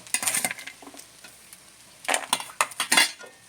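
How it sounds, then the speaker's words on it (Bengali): A spoon stirring sago pulao with pumpkin, potato, papaya and peanuts in a pan, with close scraping and clinking in quick bursts and a light sizzle underneath. "এবার আমি এটা মিশিয়ে নেব এর সঙ্গে"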